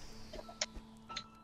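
Short bird chirps from the Celeste platformer video game, a few quiet clucking blips and brighter tweets spaced across a second and a half over a faint steady hum, with no talking.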